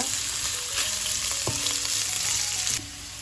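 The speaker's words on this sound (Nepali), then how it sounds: "मिडियम हिटमा आलुलाई मैले 3-4 मिनट जस्तो फ्राई गरेँ।" Potatoes fry in a pan over medium heat with a busy, close sizzle and a few clinks of stirring, then the crackle drops suddenly quieter near the end.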